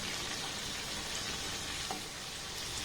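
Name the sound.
semolina pitha frying in a pan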